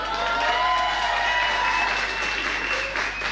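Studio audience applause on a comedy reaction show, with a few cheers mixed in; steady, full clapping from a crowd that holds loud and then eases slightly at the close.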